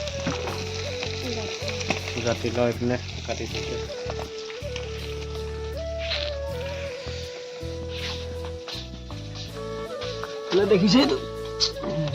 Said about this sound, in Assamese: মায়ে ভাত বনাই আছে মাছখিনি ভাজি আছে